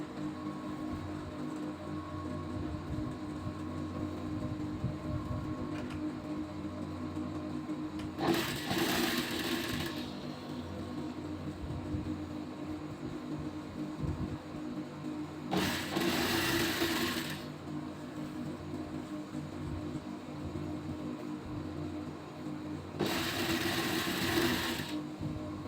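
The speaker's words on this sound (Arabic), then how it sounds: "من هنا بقى همشي كده على المكنه عشان خاطر اريح القماش." A sewing machine stitches elastic fabric for a fitted bed sheet in three separate runs, each a rapid mechanical whir lasting a couple of seconds over a quiet room hum.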